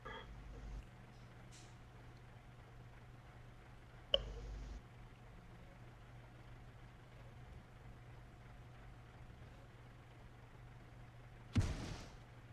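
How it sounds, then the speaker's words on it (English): Artillery in the World of Tanks game sounds as a few distant, muffled booms spaced several seconds apart over a low steady hum, with the last one the sharpest. "Artillery or someone's taking pot shots behind you."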